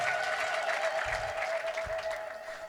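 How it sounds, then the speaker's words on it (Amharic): Congregation at a gospel church service applauding together, a dense sustained wash of clapping with a steady high tone running through it and a couple of low thumps, no clear ululation standing out. "እልልታ ጭብጨባ ለጌታ"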